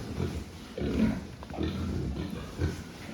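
Pigs in pens on a farm being fattened after weaning, with low grunting and snuffling in a few bursts close by, no talking over it.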